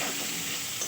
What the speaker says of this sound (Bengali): আলুগুলোকে আমি ভালোভাবে কষিয়ে নেব